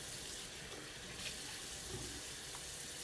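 Cold water runs steadily from a tap into a sink during a shaving routine, a constant close hiss and splash with slight shifts as hands move through the stream.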